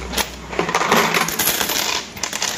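Peso coins drop and clink together while being counted, a dense run of small metallic jingles and taps over a few seconds, close and fairly loud, with no talking.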